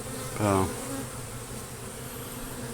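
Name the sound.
honey bees buzzing around a beehive being worked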